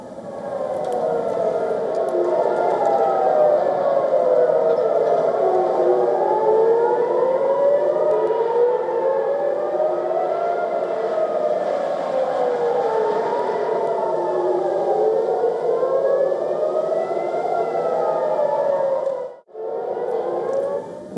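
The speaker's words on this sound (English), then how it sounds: "sirens also echoed across Tel Aviv overnight as authorities warned residents of possible" Air raid sirens wail across Tel Aviv, warning of Iranian strikes, with a steady rising and falling tone that carries loud and alone for about twenty seconds before cutting off briefly near the end.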